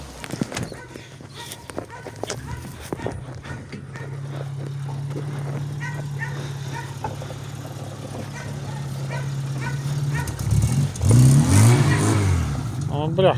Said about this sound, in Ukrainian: Завелася машинка наша.